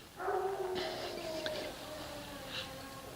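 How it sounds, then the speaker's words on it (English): A dog howls and whimpers in drawn-out, wavering tones in the background during a snow-foam car wash, with some louder yips rising and fading over about three seconds. "You can hear Diesel howling in the background because he's approving"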